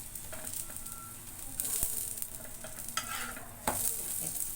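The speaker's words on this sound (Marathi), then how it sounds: "तेल टाकते मी मला पलटी मारते तेल टाकते मी" A potato paratha fries on a hot pan as oil is added, giving a steady close sizzle with stirring clatter and a few sharper scraping hits, no speech.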